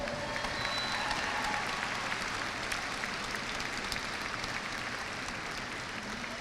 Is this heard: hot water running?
no